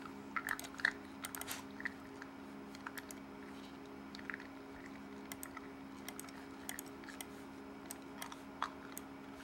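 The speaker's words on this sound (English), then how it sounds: "I'm chewing on a bottle cap." A bottle cap chewed close to the mouth gives faint, irregular clicks and small crunches over a steady low electrical hum, with no talking.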